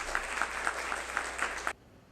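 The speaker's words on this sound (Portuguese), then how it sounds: "Eu aproveito a oportunidade para pedir que vocês possam aplaudir os 70 anos do Simpro" Applause in a city council session, steady clapping from the audience with a few sharper claps standing out, ending abruptly into near silence.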